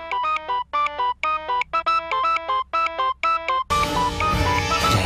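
A phone ringtone plays a repeated electronic melodic phrase in quick bursts with short gaps, close and clear, before a louder, denser stretch of music cuts in.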